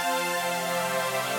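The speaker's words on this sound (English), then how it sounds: "That's the pad Dense Love" A dense, sustained synth pad called Dense Love, shaped with EQ for an uplifting trance track, holding one steady bright chord.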